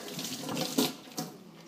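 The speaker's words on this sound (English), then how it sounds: "we want to give it a quick little rinse under some cold water." A fresh artichoke is rinsed under cold running tap water, a steady close hiss of flowing water with a couple of brief splashy surges as the stream hits the vegetable, no voices.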